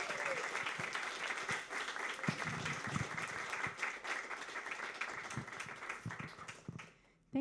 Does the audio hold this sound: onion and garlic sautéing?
no